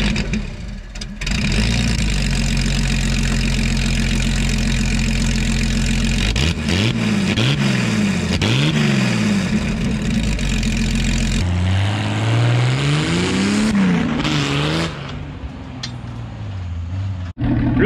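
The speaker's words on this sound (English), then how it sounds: "you throw a battery in them and they just start up and idle great" A Jeep Grand Cherokee with the 4.0 liter engine and a 5-speed cranks and fires up, then settles into a loud, steady idle nearby with a few revs and shifts in pitch, no talk.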